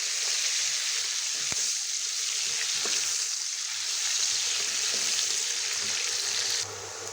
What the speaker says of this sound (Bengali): সব কিছু ভেজে নিব ব্রাউন কালার করে